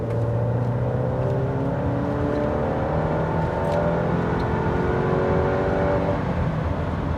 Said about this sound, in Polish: próba dynamiki od 50 do 120 w normalnym trybie jazdy